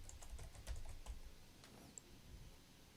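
Keys clatter on a computer keyboard while entering column headers in an Excel spreadsheet, with a quick, irregular run of faint, close taps and no talking.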